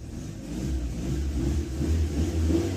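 An alcohol-fuelled car engine idles steadily as it warms up, a continuous low rumble with a slight rise in revs toward the end, close by and without voices.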